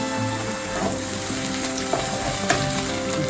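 Sautéed carrots sizzle and hiss steadily in a pan after a little water is added, a dense close crackle with light utensil clicks throughout.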